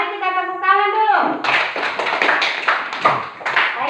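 After a short voiced call, a group of students in a classroom breaks into brisk, close hand clapping that keeps up steadily for several seconds.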